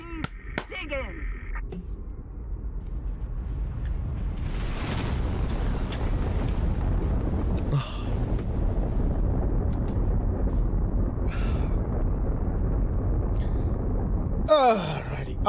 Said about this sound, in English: some of the explosions may have been peaking there